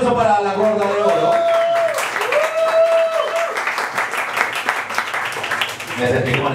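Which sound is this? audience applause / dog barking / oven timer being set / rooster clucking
audience applause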